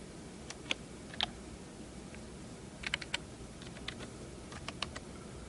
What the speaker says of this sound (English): Having a full-size keyboard makes it easy for us to type in those complex passwords